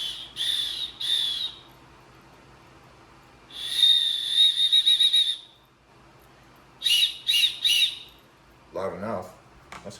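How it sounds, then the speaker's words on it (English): A plastic whistle from a 37-piece survival kit gives three loud, shrill blasts, each a second or two long with a trilling warble, separated by pauses, followed by a brief burst of nearby talk. "Here's another whistle."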